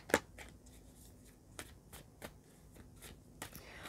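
Animal spirit cards are shuffled by hand for a reading, giving quiet close riffles and sharp snapping clacks at irregular intervals against a low room hum.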